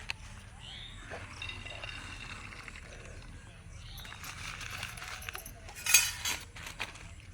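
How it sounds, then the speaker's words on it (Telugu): Dishes and utensils being washed give scattered metallic clinks and clatters, faint and intermittent, with one louder clank near the end, alongside low background noise. "గిన్నెలన్నీ కిందకి తెచ్చి ఇంకా గిన్నెలు అయితే కడుగుతున్నాను"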